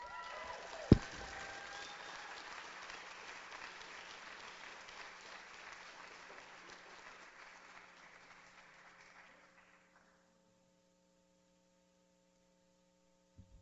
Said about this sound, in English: Let's give another round of applause for Bay Peace.